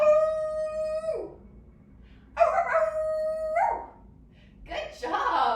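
Children in a yoga class imitate dogs howling at the moon, three long, drawn-out wavering howls with short pauses between them, loud and close, with the later howls rougher and more ragged.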